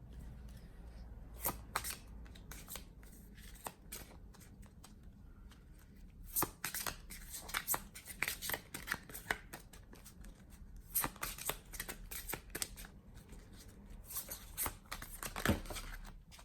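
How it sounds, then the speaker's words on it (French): Tarot deck shuffled by hand, rapid bursts of riffling and flicking card snaps in irregular clusters, close and crisp over a low background hum. "On va tirer une carte conseil quand même."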